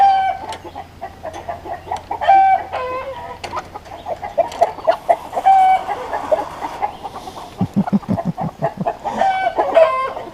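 Several chickens, including a rooster, cluck and murmur nearby in short irregular bursts, with a quick run of louder clucks near the end.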